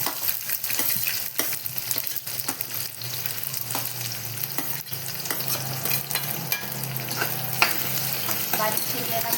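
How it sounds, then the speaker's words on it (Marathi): Finely chopped onion sautéing in a pan for a jackfruit biryani, a steady close frying sizzle with repeated scrapes and stirs of a spoon throughout. "बारीक चिरलेला कांदा पण छान गुलाबी होईपर्यंत छान परतून घेऊ."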